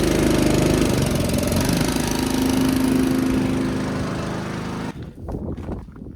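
Honda engine on farm equipment fitted with a gauge and a rear filter, running steadily at a loud, even drone for several seconds before cutting down to a quieter, uneven sputter.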